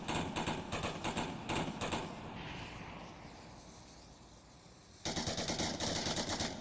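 Sustained automatic rifle fire in the VR shooter Onward during a competitive match: rapid loud bursts, a quieter lull of distant ambience, then another close burst of rattling shots.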